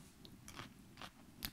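Three quick, crisp crunches come from biting into a salty, garlicky, cheesy seasoned cauliflower snack, close up and evenly spaced.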